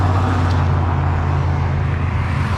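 Steady, loud roar of heavy road traffic, many cars passing continuously on a road at sunrise, a dense unbroken rumble with no single vehicle standing out.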